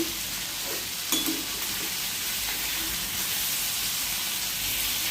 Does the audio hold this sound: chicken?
no